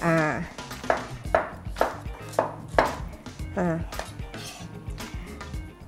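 Onion being finely chopped on a board for a sauté base, a run of sharp, close knife strikes in an uneven rhythm, with a person talking over part of it.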